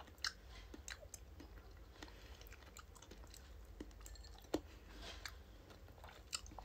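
Someone chews mango softly and close by, with a steady run of small wet bites and crunches over a faint hiss in a quiet room.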